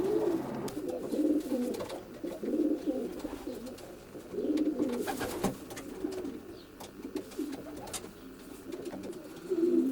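Racing pigeons in a loft cooing continuously, with overlapping soft rolling coos repeating every second or so at close range, plus scattered light knocks and rustles.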